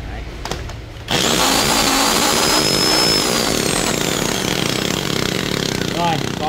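A 16 mm rotary hammer drill switched to hammer mode starts with a click, then runs loud and steady with a dense buzzing rattle, close up, with someone talking faintly beneath it.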